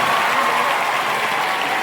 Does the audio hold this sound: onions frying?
no